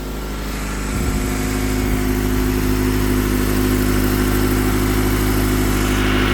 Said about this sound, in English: I've rolled it over twice, and now I'm at 855, and she's been running all right.